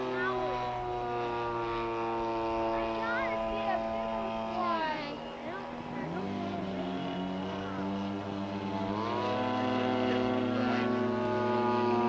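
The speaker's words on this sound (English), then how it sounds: "Watching the jet." A jet aircraft passes overhead at a fly-in, a sustained loud whine and roar with shifting pitch that swells, dips briefly, then rises again, steady throughout the pass.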